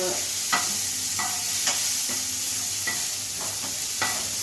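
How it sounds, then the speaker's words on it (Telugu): Tomatoes fry in a hot pan for chutney, a steady close sizzle broken by several sharp scraping stirs of a utensil against the pan, with no voices. "మళ్ళీ మాడిపోతాయి. ఎక్కువ వేయించుకోకూడదు, టమాటాలు రుచి రావు."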